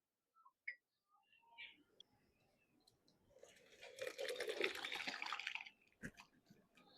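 Whey water splashes and trickles as fresh chhana cheese curds, split with vinegar, are strained in a home kitchen, faint at first with a few small clinks, then a fuller pouring rush for a couple of seconds that fades out.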